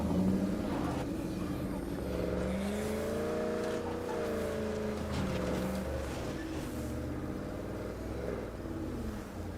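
Car driving in State of Decay 2, a steady engine drone with rising and falling revs, fairly faint and continuous, with no talk over it.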